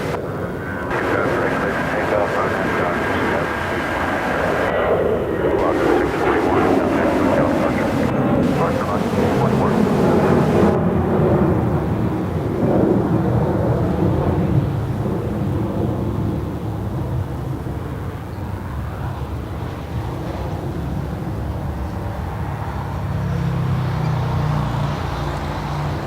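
An Alaska SkyWest jet bound for San Francisco takes off at LAX, a loud, continuous engine roar with a falling whine as it accelerates, mixed with wind buffeting and brief broadband bursts.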